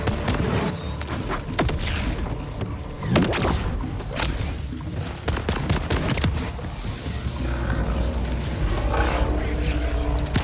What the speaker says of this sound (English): My grenade calls for flesh!